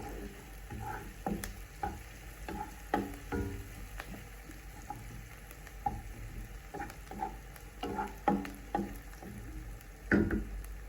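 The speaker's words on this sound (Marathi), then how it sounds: "कांदा जरा सोनेरी रंग होईपर्यंत परतून घ्यायचा आहे आपल्याला" Finely chopped onion sautés in a pan toward golden for paratha, giving a soft continuous sizzle broken by repeated spatula scrapes and stirring clicks, close and moderately quiet.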